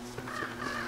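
Crows cawing in the survival game Don't Starve, a few short harsh calls in quick succession, close and fairly quiet.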